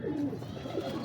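Pigeon cooing, a pet bird kept in a loft, with soft low repeated coos that sound close and steady, no talk over them.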